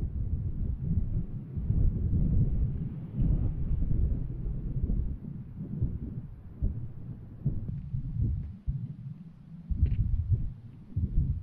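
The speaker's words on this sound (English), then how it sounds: "It's quite windy out here with some ominous looking storm clouds as well." Gusty wind buffets the microphone on an exposed hiking trail under stormy skies, with low rumbling surges rising and falling throughout.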